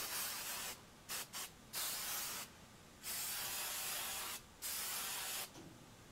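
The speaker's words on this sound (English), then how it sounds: "I'm gonna take that hairspray and just hairspray the curls." Hairspray is sprayed onto curled hair in a series of close hissing bursts, a few short puffs followed by longer sustained sprays separated by brief pauses, with no talking.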